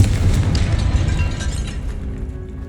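A Confringo spell explosion in Hogwarts Legacy, a loud, close fiery boom that rumbles and crackles for a couple of seconds before fading.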